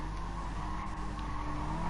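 A Gr.4 race car's engine drones at Mount Panorama in Gran Turismo Sport, a steady, fairly quiet whine held through the whole moment with no voices.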